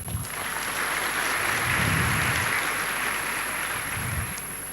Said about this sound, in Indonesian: tepuk tangan untuk Bu Rektor.